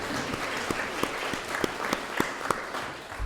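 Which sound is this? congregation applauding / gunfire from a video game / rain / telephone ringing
congregation applauding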